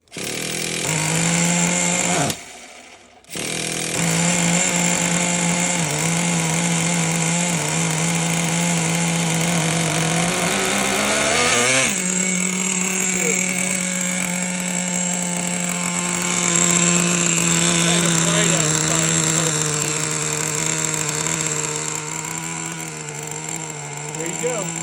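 A small gasoline engine on a remote-starter setup runs steadily and loudly close by, cutting out briefly near the start, then restarting with a shift in pitch partway through and droning on to the end.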